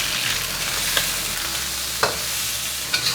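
Pork frying in hot oil in a pan, a steady close sizzle with a few sharp pops and clatters as the meat is flipped, no talking.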